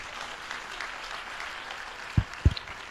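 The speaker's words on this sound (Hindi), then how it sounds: "तालियां बजा दो भैया।" Audience claps at a Hindi poetry recital honoring the life of a revered Acharya. The applause is soft and distant, a thin steady patter, and two dull thumps land near the end.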